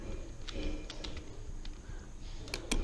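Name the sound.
typing services.msc on a computer keyboard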